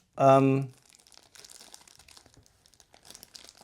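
A plastic bag is pulled off a metal tool accessory for an Archwick B&T APC9K Pro SD2 gas blowback airsoft gun, with soft, close crinkling and rustling just after a short spoken word.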